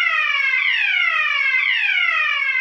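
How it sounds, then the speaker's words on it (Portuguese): A loud electronic fire alarm siren repeatedly sweeps downward in pitch, continuous and piercing, with no other sounds. "Pode ouvir de repente a sirene do alarme de incêndio a tocar."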